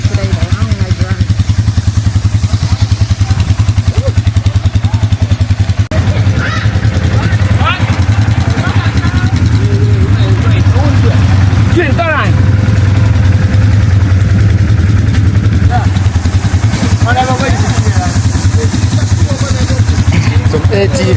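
An ATV engine idling at a tourist riding spot in Jamaica, a steady low rumble running the whole time beneath lively chatter from several people.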